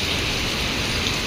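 Heavy rain pours steadily and loudly, a dense unbroken hiss of water with no pauses and no voices.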